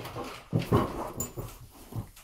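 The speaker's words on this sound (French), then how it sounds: "Il y a mon toutou." A pet dog whimpering and panting close by in a home, several short whiny bursts with soft breathy panting between them, with no talking.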